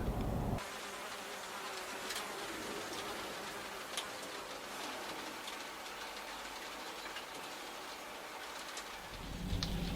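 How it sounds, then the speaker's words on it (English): Rain falling on an allotment garden, a steady broadband patter that holds for the whole stretch, fairly close and even in level, with no talk over it. "Starting to rain, so I've had to come indoors"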